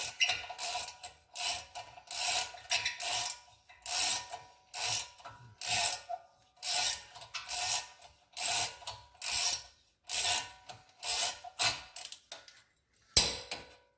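A ratchet wrench loosens bolts on the hub assembly of a 2005 Dodge Ram, giving repeated bursts of rapid clicking with short pauses between them, close and loud, with no speech.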